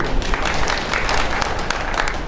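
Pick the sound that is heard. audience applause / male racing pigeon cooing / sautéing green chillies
audience applause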